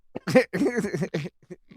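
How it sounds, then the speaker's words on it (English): A short, close cough that breaks into throaty, voiced spluttering, a few rough bursts before trailing off. "That was a tiny cough"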